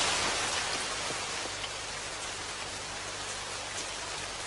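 Steady rain falls at night outside a home, a dense continuous hiss of drops spread evenly with no pauses and no voices on top.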